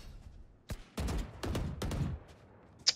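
Several sharp gunshot bursts from Counter-Strike gameplay, close and loud, firing in quick clusters over about two seconds, followed by a brief bright metallic click.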